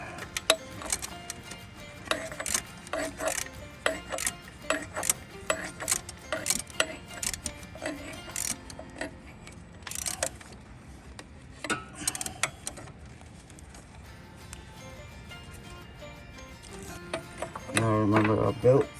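A bolt is tightened during alternator replacement on a 2009-2015 Toyota Venza V6, heard as close bursts of ratchet clicking that come and go over a low background, with a louder rattling clatter near the end.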